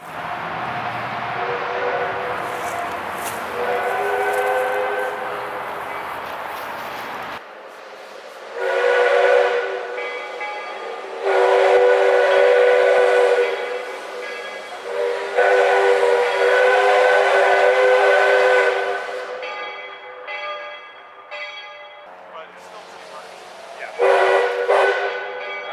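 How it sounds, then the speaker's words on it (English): The step-top steam whistle of Hillcrest Shay locomotive No.1044 sounds from a distance in several long, chordal blasts with gaps between, loud and ringing against quiet surroundings. "I took that opportunity to record the whistle from afar"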